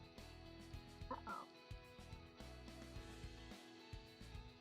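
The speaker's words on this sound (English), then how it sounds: "My bird's upset." A pet bird squawks in short, agitated bursts against a low, droning background hum, with sirens outside.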